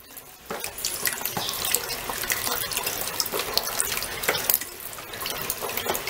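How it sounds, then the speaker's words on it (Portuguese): Tap water runs steadily into a sink as homemade glow-in-the-dark slime made with bicarbonate and boric acid water is squeezed and rinsed, with a continuous close splashing hiss and scattered drips throughout. "A gente lava ela apertando para poder sair o excesso do bicarbonato"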